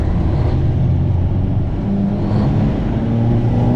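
A heavy truck engine pulls steadily after a shift into seventh gear at about 25, a continuous low diesel drone with a slight rise in pitch, close and loud with no talk over it.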